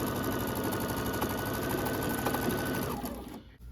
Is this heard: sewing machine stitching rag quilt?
yes